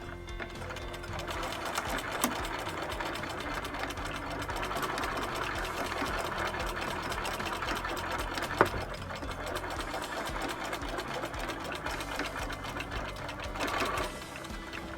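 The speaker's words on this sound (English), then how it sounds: "You're gonna want to sew 1/4 of an inch away from this edge" A sewing machine stitches around a fleece blanket a quarter inch from the edge, running in a steady continuous whir close by for the whole stretch, with no one talking.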